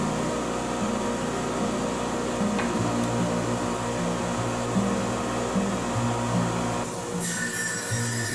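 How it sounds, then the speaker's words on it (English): A bandsaw trims small wood pieces for a segmented mosaic vase, its steady motor drone running continuously before easing off near the end. "I trim the smaller pieces over on the bandsaw."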